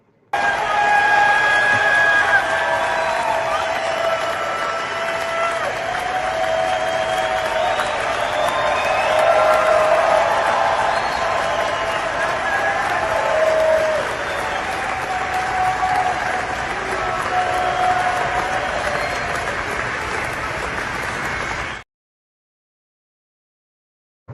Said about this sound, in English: he got this big round of applause